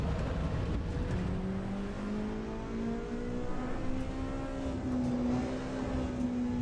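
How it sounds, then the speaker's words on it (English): A steady, droning engine and exhaust note is heard from inside a racing car in Assetto Corsa EVO, its pitch rising slowly under continuous throttle. "You know, you kind of get that interior sort of almost like droniness of the exhaust in a way."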